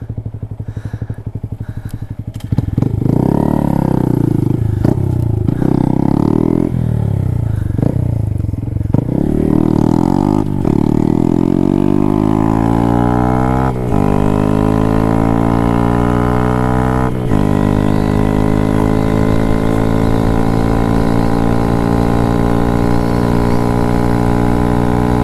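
Honda Grom motorcycle engine under way, a steady mid-pitched drone with rising and falling harmonic sweeps as the rider shifts and accelerates, loud and close throughout with no talk.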